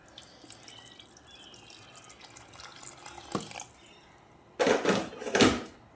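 Hot water from a kettle poured into a home-cooked goat mutton curry, heard as a loud, splashy pour in two bursts near the end after a quiet stretch.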